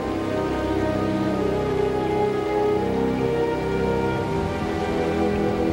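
Heavy rain of the wet season pours down in Australia's far north, a dense continuous hiss of drops on surfaces, loud and unbroken with no voices.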